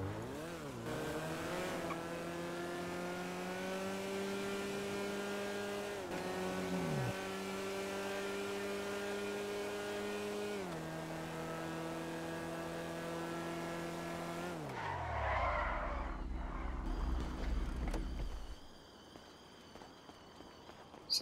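A Pagani supercar on a test run at the airport in GTA 5 Online, its engine revving hard through repeated gear changes, then a tire squeal and a slowing drop-off near the end, close and loud with no talk.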